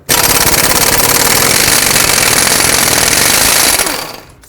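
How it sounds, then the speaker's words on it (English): An impact wrench rattles loudly and continuously for about four seconds, working a 30mm 12-point socket on the axle nut of a 2009-2015 Toyota Prius during a driver's side CV axle replacement, then winds down to silence. "Now with a 30mm 12-point socket, let's remove the axle nut."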